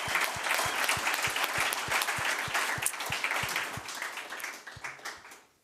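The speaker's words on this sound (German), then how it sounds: "Applaus." An audience claps steadily at an event honoring members of the German Bundestag, with a faint rhythmic pulse running through the crowd before the applause fades out at the end.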